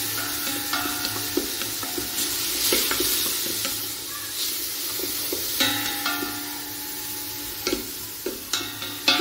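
A seasoned mixture for fish soup with shrimp and vegetables sizzles steadily in a pot, with repeated stirring scrapes and clinks over the constant frying hiss.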